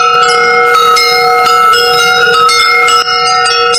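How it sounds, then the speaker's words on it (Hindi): A church bell rings loudly and close, struck repeatedly in a steady rhythm with long ringing overtones blending together, used as an eerie horror story sound effect, with no speech. "पूरे गांव में घंटी की आवाज गूंजने लगी।"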